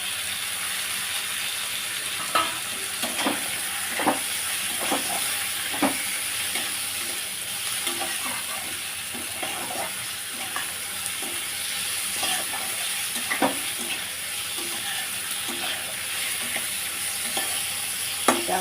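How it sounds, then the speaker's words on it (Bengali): Prawns fry in a pan with chili and cumin, a constant close sizzle broken by frequent sharp scrapes and clicks of a spatula stirring at an uneven, unhurried pace. "আস্তে আস্তে ভাজতে থাকি"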